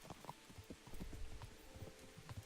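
A horse's hooves clip-clop in the Kingdom Come video game, a faint, uneven run of soft thuds at a walking pace.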